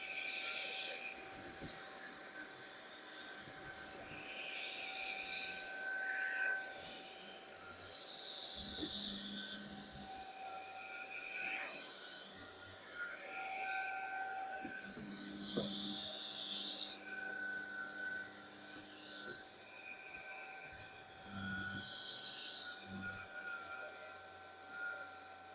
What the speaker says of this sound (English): Let me go ahead and start vacuuming.